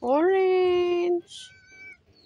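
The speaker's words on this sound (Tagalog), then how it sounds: "Andito na ang mga pusa." A cat in a garden lets out one loud, drawn-out meow close by, then a quieter, shorter mew follows with faint background noise.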